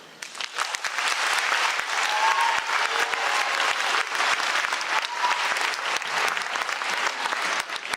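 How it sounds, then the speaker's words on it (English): Applause from the audience at a middle school spring concert greets the 6th grade, swelling quickly from a few claps into sustained, dense clapping across the auditorium that holds steady to the end, with faint voices mixed in. "Now let's give a round of applause for the 6th grade."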